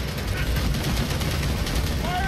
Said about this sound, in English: Oh, geez, the turret's back up.